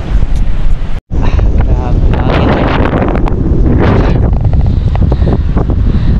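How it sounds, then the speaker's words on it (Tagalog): Strong wind buffets the microphone with loud, rough rumbling gusts, cut by a brief dropout near the start, while a voice speaks faintly under the roar. "Grabe yung hangin."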